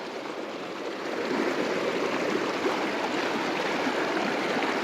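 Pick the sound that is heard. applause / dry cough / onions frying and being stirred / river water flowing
river water flowing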